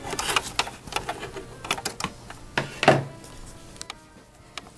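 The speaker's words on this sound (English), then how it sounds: "I'm going to sew down the other side" A sewing machine stitches the boning casing on a dirndl in short, irregular bursts of rapid clattering, close and fairly quiet, with pauses and a louder thunk midway.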